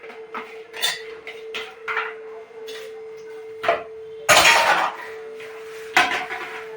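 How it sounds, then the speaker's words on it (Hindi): Potatoes are peeled in a home kitchen amid a series of irregular scraping and clattering knocks of peeler and utensils, some louder bursts of clanking dishes, over a steady electrical hum. "तो मैं आलू छील लूँ जल्दी से"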